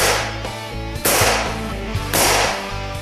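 A Benjamin 392 pump air rifle fires in sharp close cracks, a few spaced shots with sustained ringing and background tones between them.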